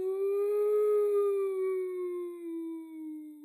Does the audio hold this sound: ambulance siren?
yes